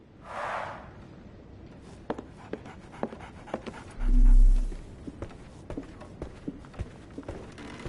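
A dog in a video game pants and sniffs close by in quick rhythmic breaths, with light steps and small clicks scattered around it and a low thump in the middle.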